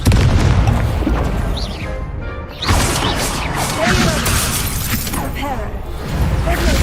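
A Confringo blasting curse goes off in Hogwarts Legacy, a booming explosive crash with shattering debris amid continuous loud game combat noise and a voice speaking over it.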